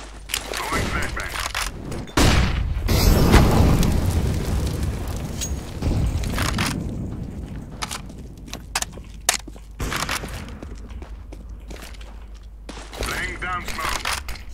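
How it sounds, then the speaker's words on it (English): In Counter-Strike, flashbang grenades go off in gameplay as sharp bursts and booms amid bouts of game gunfire, with in-game voice callouts spoken between the blasts. "Flashbang. Throwing flashbang."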